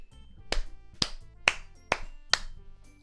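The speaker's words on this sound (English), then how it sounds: "The four of us applaud." Five crisp, separate claps in a video game ring out one after another at a steady, unhurried pace, each with a short bright ring and nothing else around them.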